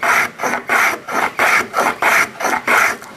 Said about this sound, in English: I'm getting some really nice curls coming off of the hand plane